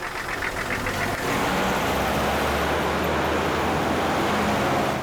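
A car engine revving and pulling away, a steady low rumble that builds and holds loud and close after a brief higher whine at the start, with no talk over it.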